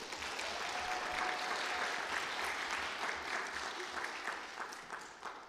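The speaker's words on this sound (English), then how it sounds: "Let's give her a round of applause." Sustained applause from an audience in the Oregon Senate chamber, celebrating the 2023 Oregon Kid Governor's inauguration; steady, dense clapping at moderate volume that thins slightly toward the end.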